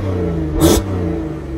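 An Audi TT 8J with the 3.2 VR6 engine and twin exhausts gives one short, sharp rev, a loud burst rising over a steady idle rumble.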